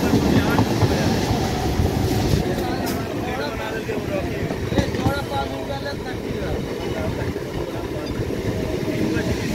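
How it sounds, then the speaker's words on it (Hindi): An Indian Railways up local train runs toward Bandel Junction with a steady rumble, rattling carriages and occasional wheel squeals, loud and continuous, while voices talk in the background. "लोकल ट्रेन की बैंडेल रेलवे जंक्शन अभिमुखे जाते आप local train running towards Bandel railway junction."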